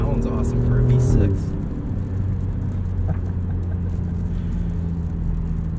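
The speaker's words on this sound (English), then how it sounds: "Yeah, third gear pulls harder than second. Yeah, it does. That's fun. That's a good time. It is. And it sounds awesome for a V6." A 2021 Alfa Romeo Giulia Quadrifoglio V6 engine pulls steadily under acceleration in the gears, a continuous low drone heard from inside the cabin, with people talking over it.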